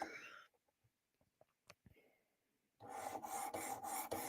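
Knife blade rasped back and forth across worn sharpening stones, a dense continuous scraping that starts after a stretch of quiet broken by a few faint taps and knocks, then runs steadily and fairly close.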